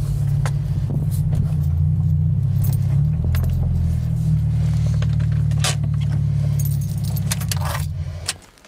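A car idles and rolls slowly into a garage after a wash, its low engine rumble loud and steady with light rattles and clinks on top, then the engine cuts off and the sound drops away at the end.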